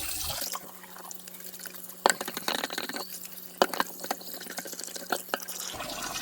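Running tap water splashes into a CAROTE non-stick pot while it is washed: a steady close faucet stream with irregular drips and sloshing bursts.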